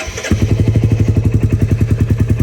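A Royal Enfield Classic 350 motorcycle, freshly fitted with a new cam, idles with a steady, loud single-cylinder thump, its even pulses starting abruptly and running on without a break.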